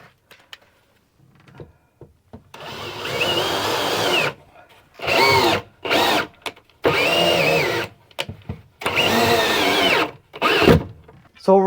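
A power drill drives a screw into wall framing during an inside-corner framing repair, whirring in several loud, close bursts of one to two seconds separated by short pauses, after a few quiet clicks at the start.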